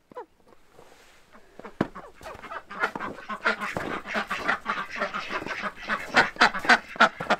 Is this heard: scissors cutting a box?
no